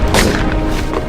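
A grenade bursts in a Civil War battle scene, one loud, close, muffled boom with a heavy thud that fills the whole short moment, no talking.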